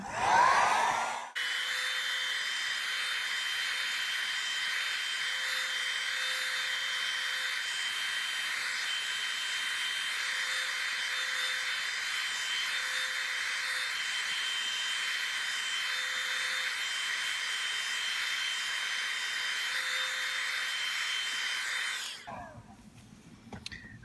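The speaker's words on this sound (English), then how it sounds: "take these and hit them with a heat gun just to dry them a little bit" Heat gun blowing over stamped craft pieces to dry them, a loud, steady close-up whoosh with a faint tonal whine, running unbroken for about twenty seconds before switching off.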